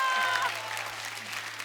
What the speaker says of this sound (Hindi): जोरदार तालियां सोनू के लिए।